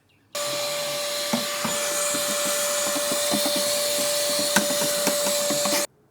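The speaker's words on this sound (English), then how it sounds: "I'm going to go ahead and use a shop vac to clean out any loose debris before I put the new air filter in" A shop vacuum roars close and loud for about five seconds, sucking loose debris out of a Honda Odyssey engine air box. The steady whine starts and stops abruptly, with small rattling clicks of debris throughout.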